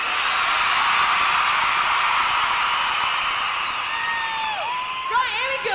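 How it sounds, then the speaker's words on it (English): A large concert crowd at an Earl's Court arena show screams and cheers in a loud, sustained roar, with higher whoops and a rising shout near the end. "You're going to have to scream louder than that because it's really good."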